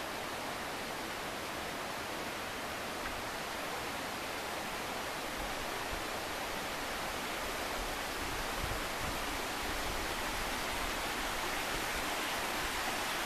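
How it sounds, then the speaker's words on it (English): Mill Prong Creek in Shenandoah National Park rushes below a porch with a steady, broadband wash of flowing water, constant and unbroken throughout. "And down there's Mill Prong Creek."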